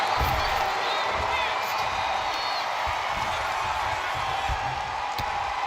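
Video game crowd cheering during a WWE 2K25 women's wrestling match as a wrestler fires up the audience, a dense, steady arena roar filling the background beneath continuous commentary.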